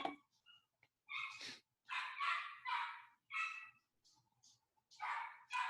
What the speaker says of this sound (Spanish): Seguramente escuchan mis perritos de fondo.